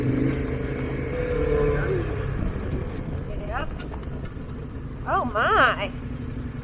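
A KTM adventure motorcycle riding over a rough, rocky fire road, heard as a steady low engine drone with wind rumble, close to the microphone, while a rider briefly speaks over it.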